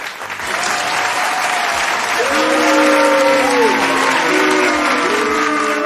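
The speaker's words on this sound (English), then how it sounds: "Have a nice round of applause for our friend, Sky, a.k.a. Sunshine FC." A crowd gives a loud, sustained round of applause at a football fan show, the clapping dense and continuous, with cheers and voices rising over it.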